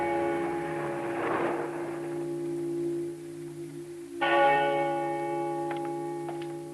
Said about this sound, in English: It means a peal of bells.